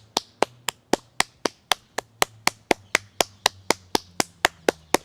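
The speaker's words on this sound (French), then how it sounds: "Je pourrais applaudir encore 5 minutes" A single person claps hands at a steady, even pace, about twenty crisp claps in five seconds, close and alone with a faint hum underneath.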